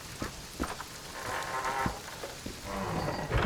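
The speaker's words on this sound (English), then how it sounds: "It's really raining now." Steady rain patters in a scene from The Witcher 2: Assassins of Kings, with a few soft thuds and clicks over the wash of falling water.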